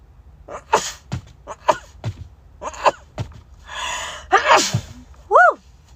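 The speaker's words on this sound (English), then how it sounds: "I need to sneeze." A woman's sneezes, several sharp bursts spread over a few seconds with gasping inhales building up between them, close and loud against an otherwise quiet room.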